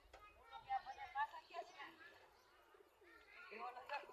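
Pigeons coo softly on a rooftop in low, rounded bursts, heard faintly and close by with a pause between phrases.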